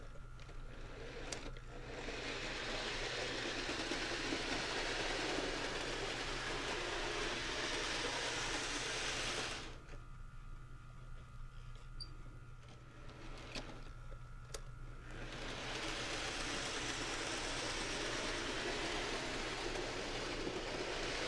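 A small HO scale Thomas & Friends model train whirs and rattles along its track, a steady close hum that drops away briefly before the running noise resumes.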